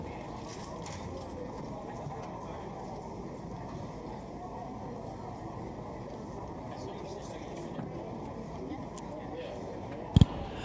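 Harness racing horses trotting behind a rolling starting gate at a county fair, a steady dense patter of hooves under a continuous crowd and track murmur, with a brief sharp knock near the end.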